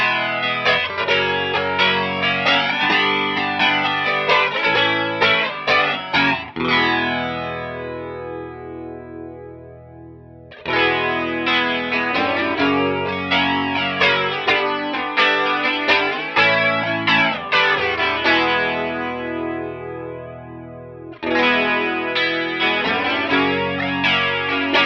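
Electric guitar played through an Aroma (Tomsline) Twister flanger pedal, an Electric Mistress clone, with the range set all the way down; sustained strummed chords swirl with a sweeping, jet-like shimmer, in three long phrases separated by brief decays.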